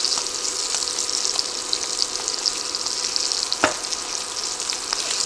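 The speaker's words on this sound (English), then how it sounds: "We're gonna cook these for about 3 to 4 minutes, lock in some delicious flavor." Pork chops sear in a hot pan with a continuous bright, hissing sizzle, close and steady, broken by a sharp clack near the middle and a few light spatters.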